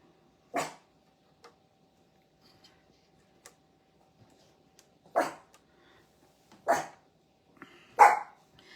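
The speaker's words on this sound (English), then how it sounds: "stop barking." A dog barks in four short, sharp bursts spread over several seconds, separated by long quiet gaps, fairly close and moderately loud, with faint ticking in the background.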